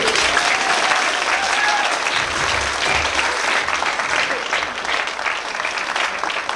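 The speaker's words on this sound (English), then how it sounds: "A round of applause" Audience applause fills the space, a dense, sustained clapping from a crowd at a stage performance, steady throughout with no break.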